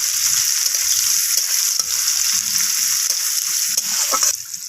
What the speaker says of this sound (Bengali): তো এখানে সমস্ত কিছু একটু লালচে রং করে ভাজা হয়ে যাক